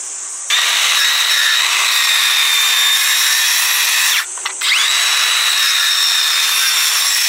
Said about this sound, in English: he goes to cut the timber to the required size